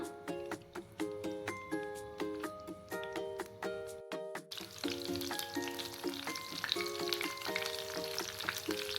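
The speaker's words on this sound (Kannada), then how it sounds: "ಇವಾಗ ಎಣ್ಣೆ ಕಾದಿದೆ. ಫಸ್ಟ್ ಹಸಿಮೆಣಸಿನ್ಕಾಯಿ ಹಾಕೋಣ." Green chillies go into about two tablespoons of hot oil for a fish roe stir-fry, bursting into a steady, broad sizzle about halfway through, heard beneath a louder background music track.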